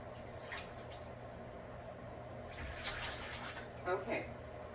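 Steady running water fills a sink, a constant close hiss with faint splashes and drips swelling slightly near the end.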